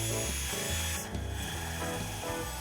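A power drill drives a screw into the wooden legs of a DIY folding-seat picnic table, giving a close, steady low motor whir with rubbing, ratcheting wood noises and a brief pause midway.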